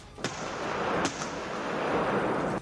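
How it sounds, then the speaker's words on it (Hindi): Artillery guns fire during a NATO military exercise, heard as two or three sharp booms over a continuous loud rumbling roar of wind and distant activity. "नेटो देशों के जवान तोप चलाने की भी ट्रेनिंग लेते दिखाई दिए"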